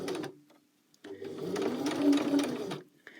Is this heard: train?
no